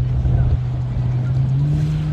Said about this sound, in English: I think that's a speedboat.